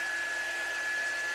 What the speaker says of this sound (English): I'm going to dry these real quick with my dryer.